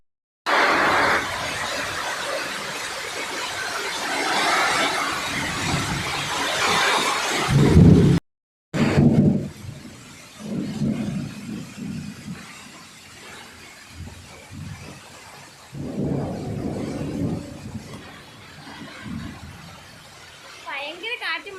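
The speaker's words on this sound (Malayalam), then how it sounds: "ഭയങ്കര ഇടിയും മഴയും." Heavy thunderstorm with rain, thunder and lightning: a loud, broad roar of rain and thunder fills the first half, then after a brief break, quieter rumbles and rainfall continue with voices in the background.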